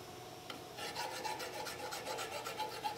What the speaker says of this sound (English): This file is plenty coarse, probably a little coarser than I would prefer